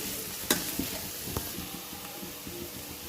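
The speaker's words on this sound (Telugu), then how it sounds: "ఉల్లిపాయలు వెళ్ళిన అంతా బ్రౌన్ కలర్ వచ్చే వరకు కొద్దిగా ఫ్రై చేసుకోవాలి" Onions, cumin and green chilies fry in a pan for palak rice, a steady sizzle with occasional clinks and scrapes of a spoon stirring, close and alone.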